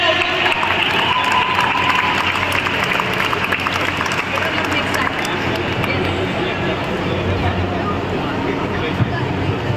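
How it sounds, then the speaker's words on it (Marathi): An audience applauds at the opening ceremony of a tennikoit association event, with loud, sustained clapping from a crowd and voices murmuring underneath. "पण जोरदार टाळ्या."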